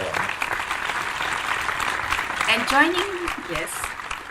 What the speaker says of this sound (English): let us all please welcome Doc Mangahas by giving him a virtual round of applause